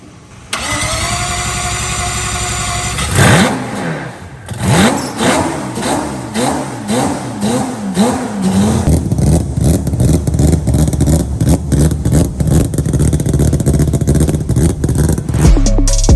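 A four-rotor Mazda FD RX-7 rotary engine in Indonesia cranks on its starter for a few seconds, catches with a loud bark, then revs in repeated rising blips before settling into a loud, rough, continuous high idle and revving.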